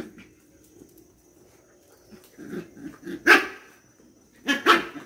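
A pack of dogs barks in a garden, a few scattered yips at first, then two loud bursts of barking at close range with quieter woofs between them.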